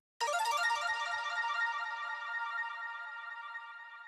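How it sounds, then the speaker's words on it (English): Electronic arp echo effect built from a bell synth layer: a bright, harmonically rich tone that enters sharply and repeats in a rapid shimmering pattern, sustaining and slowly fading over several seconds with no voices. "One thing I will show you how I made is this like ARP echo effect that I use in a lot of songs."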